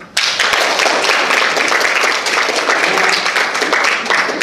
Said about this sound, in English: I'd like to give Lulu a round of applause.